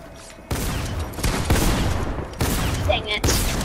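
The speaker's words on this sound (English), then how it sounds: "Oh, it's the hit with the rocket launcher." Game rocket launcher firing during a Fortnite match, heard as several loud, sudden blasts in quick succession over a steady rumble of game noise, with no talking over the shots.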